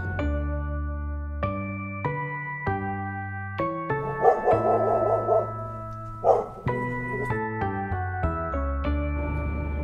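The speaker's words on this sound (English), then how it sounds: "Dog." A dog barks in short bursts partway through, set under a loud, steady bed of bright synth music in a children's farm-animal learning piece.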